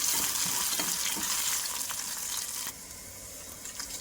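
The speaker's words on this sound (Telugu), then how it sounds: "మినప్పప్పు కొంచెం వేగిందండి. ఎల్లుల్లిపాయలు, ఆవాలు కొంచెం, కర్ర కూడా కొంచెం వేయండి." Urad dal, garlic and mustard seeds sizzle and crackle in hot oil in a tempering pan, a steady close hiss with scattered pops that drops to a quieter sizzle partway through.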